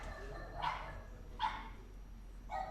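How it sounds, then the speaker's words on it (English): Dogs next door bark three times, spaced about a second apart, moderately distant and muffled against a low background hum. "Sorry for the dogs next door, dudes."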